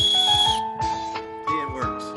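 A whistle built into a PHL tactical walking stick gives a few short, shrill blasts, steady high tones cutting in and out near the microphone with light rustling underneath.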